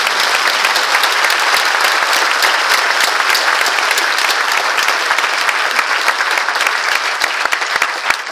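A cinema audience at a documentary world premiere bursts into sustained, loud applause, dense continuous clapping filling the room at an even level throughout.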